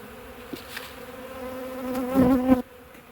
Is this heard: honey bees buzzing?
yes